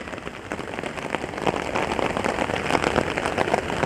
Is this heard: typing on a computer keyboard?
no